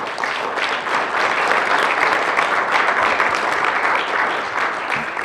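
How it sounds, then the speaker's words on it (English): An audience at a presentation on e-Construction gives a sustained round of applause, dense and even clapping that carries on loudly throughout. "give them a last round of applause"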